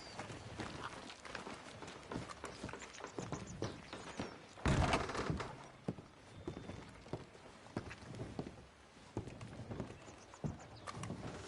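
Horse hooves in Red Dead Redemption 2 clip-clop at a steady trot, moderately close, with one heavier thud partway through and a faint background bed.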